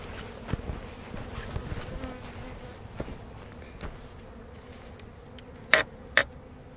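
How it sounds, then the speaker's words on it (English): Honey bees from a small swarm hive hum in a soft, steady buzz with scattered light taps and clicks, and two sharper knocks near the end. "So these bees here are all from the tiny swarm hive."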